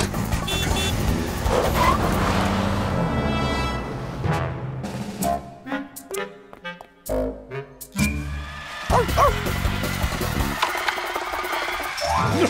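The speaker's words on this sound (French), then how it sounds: "Vite, ma voiture! Suivons ce Zim" A cartoon car drives off amid animated sound effects: a running motor sound, then a string of short clattering and popping effects with gaps, then the motor resumes, loud and close.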